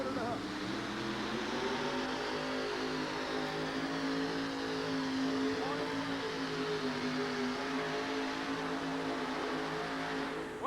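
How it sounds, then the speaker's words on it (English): An alcohol-injected monster truck engine making 1,200 to 1,500 horsepower roars continuously through a pass at a 1988 USHRA event in Albany, a loud, sustained engine drone heard from a distance with crowd and arena noise beneath it. "This is an alcohol-injected motor."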